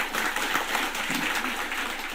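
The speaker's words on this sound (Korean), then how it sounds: "박수." Scattered, moderately faint clapping rises from a seated audience at a public gathering and carries evenly through the short stretch without fading.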